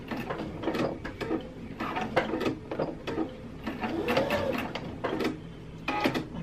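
A sewing machine runs on flannel shirt fabric at the end of a seam to back stitch, giving a steady mechanical whir and clatter with short pauses between bursts, close and moderately loud.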